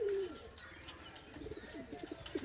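A large pigeon, a red-eyed fancy breed handled for sale, gives a short low coo near the start, followed by soft rustling and faint scattered sounds.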